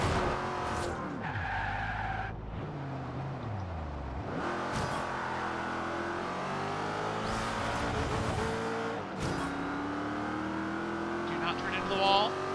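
A Jaguar races in the Forza Horizon 2 video game with engine revs rising and falling, tires skidding and squealing through turns, and someone talking over the continuous driving noise.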